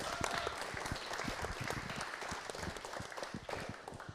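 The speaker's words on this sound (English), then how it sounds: "A big, big, big applause" Festival crowd applauding a legendary film programmer at a film talk: dense, continuous clapping from a sizeable audience, heard faintly and at a distance.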